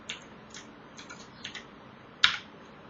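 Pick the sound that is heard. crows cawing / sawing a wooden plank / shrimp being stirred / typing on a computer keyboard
typing on a computer keyboard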